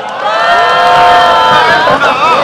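A large crowd at an outdoor candlelight rally in Incheon cheers loudly, with whoops and shouting voices rising together in a dense, sustained roar close by.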